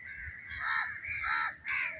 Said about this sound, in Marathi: बघा, सगळे कावळे इथं आलेत आंघोळीला